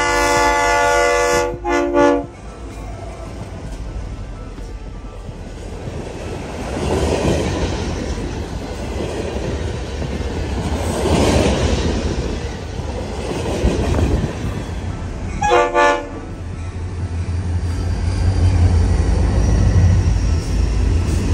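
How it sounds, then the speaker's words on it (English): A Florida East Coast freight train hauling NASA rocket boosters from Jacksonville to Titusville, Florida, rolls past with a steady rumble and clatter of cars, its loud horn blaring near the start and again later. "this train had to take the third and final leg of its journey from Jacksonville, Florida to Titusville, Florida"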